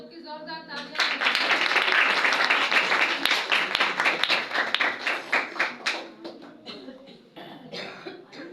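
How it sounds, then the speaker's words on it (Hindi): A church congregation applauding after a Sunday morning prayer, a dense sustained burst of clapping that swells quickly, holds for several seconds and thins out toward the end, with a few coughs mixed in. "इस तरह से आप सबकी जोरदार तालियां।"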